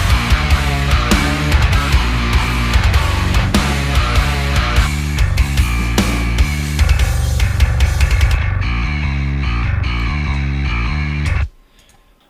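A Dingwall NKI bass guitar plays a mixed metal track with heavy distorted low notes and chugging rhythm, loud and continuous before cutting off abruptly near the end.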